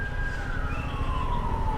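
An ambulance siren wails steadily over a low rumble of traffic, its tone gliding slowly downward as it carries from some distance.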